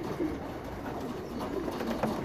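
Homing pigeons cooing softly and continuously close by, low murmuring calls over a steady background hum.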